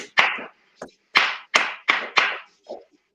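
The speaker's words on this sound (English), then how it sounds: "That church clap for you." One person gives a rhythmic church-style clap, a handful of loud, close, spaced claps with a couple of softer taps between them, and no voices.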